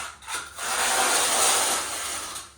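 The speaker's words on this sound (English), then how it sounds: "to essentially scrape these nice 1/2 inch deep grooves here on the tile" A 1/2 inch notch trowel dragged through tile adhesive on large format tile for a tub shower surround, a couple of short scrapes then one long gritty rasping stroke, close and fairly loud.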